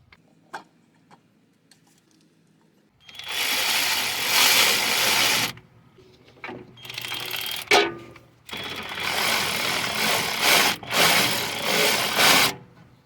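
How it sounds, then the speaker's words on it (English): A low-torque cordless ratchet drives bolts into a 2013–2020 Mitsubishi Outlander rear wheel bearing, running in several separate whirring bursts of a few seconds each, close and fairly loud, with faint clicks between runs. "This is a ratchet that doesn't have too much torque, so I make sure that it goes slow and that it's going very smoothly."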